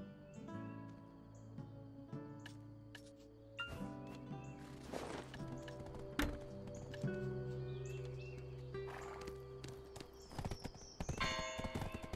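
Horse hooves clip-clopping in the video game Black Desert Online, a steady rhythmic trot up close, with bright tonal game music and occasional chirpy effects layered around it.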